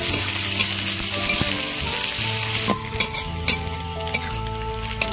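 Chopped garlic and onion fry in hot oil with a steady close sizzle, broken by occasional stirring scrapes and light clinks of utensil against pan, no talking.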